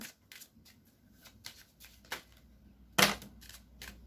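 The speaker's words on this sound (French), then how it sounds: "Alors, on va de nouveau prendre 3 cartes." Tarot cards drawn from a deck make a series of close, quiet papery snaps and slides, with one louder crisp flick near the end and no talking.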